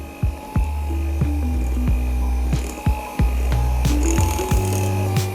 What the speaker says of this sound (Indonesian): kemudian kita aduk lagi ini kurang lebih sekitar 30 detik dengan kecepatan rendah ya.